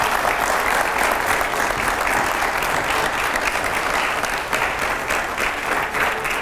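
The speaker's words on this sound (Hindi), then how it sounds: "मैं चाहूंगा जरा जोरदार तालियां हो पहले हमारे रैपिड फायर राउंड के लिए।" An audience in a studio for a televised political panel show applauds loudly and steadily, a dense wash of clapping throughout.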